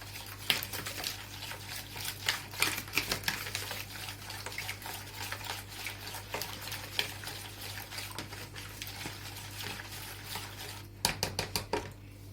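A shredded cabbage mixture for a cabbage pizza is stirred with spices and salt in a bowl, giving close, irregular scraping and clinking with faint wet mixing sounds and no talk.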